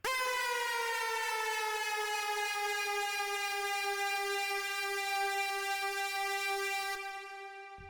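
One steady, bright synthesizer lead tone with a long decay holds for several seconds with rich overtones, then slowly fades in its final moment.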